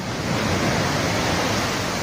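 Huge ocean waves pound the shore of Catanduanes ahead of an approaching typhoon, a loud continuous roar of surf with steady broadband wash and no voices.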